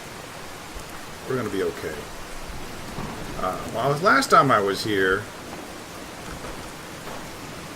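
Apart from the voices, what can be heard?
rain and thunder in video game Fallout 4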